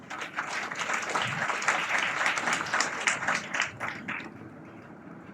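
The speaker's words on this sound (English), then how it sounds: "give a big applause to our convener." Applause from the audience at a college Golden Jubilee award ceremony, a dense burst of many hands clapping that holds steady, then thins and fades near the end, with a few words spoken at the start.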